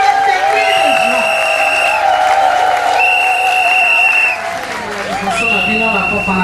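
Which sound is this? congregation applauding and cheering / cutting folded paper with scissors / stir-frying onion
congregation applauding and cheering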